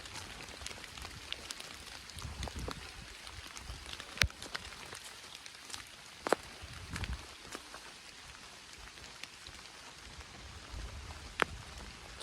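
Light rain falls on a wooded trail in New England, a soft continuous patter with scattered sharper drips, quiet and steady throughout with no talk.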